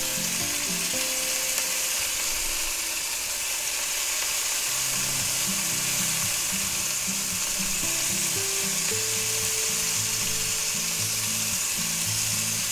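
Sirloin steak frying in a hot pan while being basted with melted butter, giving a loud, dense, unbroken sizzle up close, with a faint low rhythmic mechanical hum running underneath.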